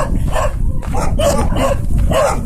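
Several dogs barking repeatedly and loudly at close range, overlapping yaps and woofs over a constant low rumble of outdoor noise.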